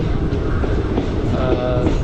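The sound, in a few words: superfast express passenger train running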